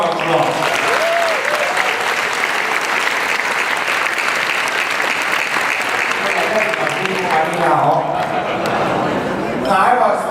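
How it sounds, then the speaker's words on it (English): Sustained applause from a dinner crowd at a fundraising event, loud and even for several seconds before thinning slightly, with a few voices and chatter mixed in underneath. "Let's give her a round of applause."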